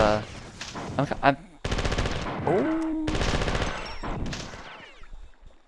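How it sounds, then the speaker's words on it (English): Rapid bursts of enemy gunfire in the video game Marathon, loud machine-gun fusillades in separate blocks with game effect tones between them and a voice heard briefly. "I'm gonna die to any of these gunshots"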